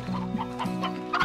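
Chickens in the video game Slime Rancher cluck in a quick, busy run of calls close up, with a sharper squawk near the end.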